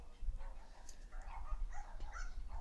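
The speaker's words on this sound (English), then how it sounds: "I know you all hear the neighbors' dogs." Dogs at a neighbour's place bark and yip in short, scattered bursts. The sound is faint and distant over a low hum, with a voice murmuring faintly in the background.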